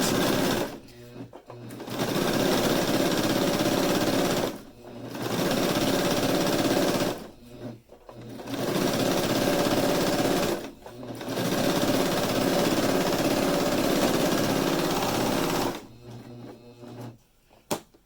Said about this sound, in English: Now we're going to take it back to the sewing machine